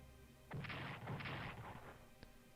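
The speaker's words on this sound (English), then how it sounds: "heavy artillery bombardment here to the west of Antwerp" Faint, muffled booms roll together in a short artillery bombardment from the Strategic Command: World War I strategy game, followed by a single soft pop against a low background hiss.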